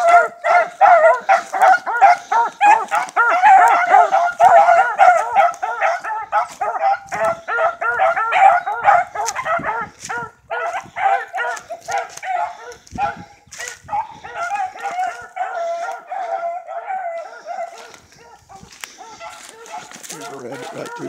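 Several beagles bay and yelp continuously in overlapping, rhythmic bursts on a rabbit hunt, loud and fairly close, fading slightly toward the end.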